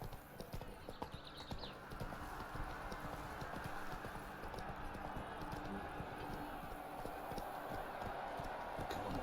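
Geralt's horse Roach galloping in The Witcher 3, a steady rapid clip-clop of hooves with a brief whinny, running continuously under faint ambient game sound and a quiet voice.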